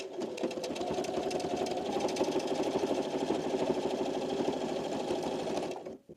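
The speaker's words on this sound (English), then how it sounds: "And then we're going to sew down again while keeping the 1/2 inch seam allowance." Domestic sewing machine stitching a cloth napkin seam at a 1/2 inch allowance, running steadily and close for about six seconds before stopping.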